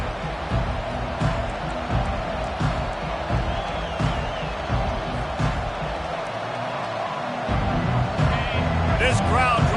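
A college football stadium crowd roars and cheers steadily throughout as a drive begins after a touchdown and kickoff. A broadcast commentator talks over the continuous crowd noise.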